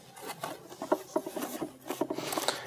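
A blade cuts through 10 mm foam board in a picture-framing workshop, making a soft, uneven rasping and scratching that runs continuously at a faint, close level.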